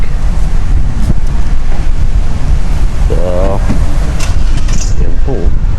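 Strong wind on the Saudi Arabian coast roars and buffets the microphone without a break, with surf beneath it and a voice speaking briefly over it.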